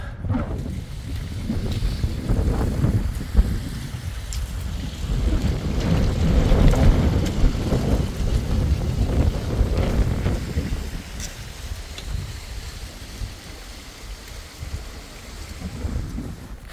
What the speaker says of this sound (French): Il y a un putain de vent.